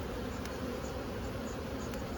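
A steady, dense buzz of many honey bees swarming close by around a hive during an inspection, continuous and fairly quiet, with no voices.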